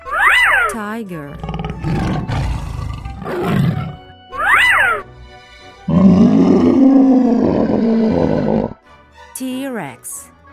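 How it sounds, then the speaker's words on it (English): A tiger roars and growls repeatedly, with loud rough bursts, a long rumbling roar in the middle and short higher yowls in between, sounding close and prominent. "Tiger."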